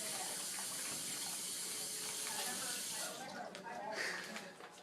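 Water runs steadily from a tap as hands are rinsed, a constant close splashing hiss that turns more broken and uneven toward the end.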